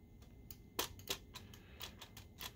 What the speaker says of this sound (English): that noise, that's the switch